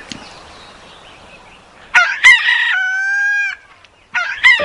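A rooster crows loudly on a farm, a single long drawn-out call with a harsh rising start and a sustained middle, followed by a brief clucking burst, with no talk.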